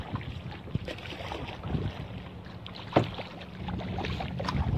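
A kayak rides sea waves off a secluded beach at La Brea, Trinidad, with water sloshing against the hull and steady wind noise buffeting the microphone, plus a sharper splash or knock near the middle.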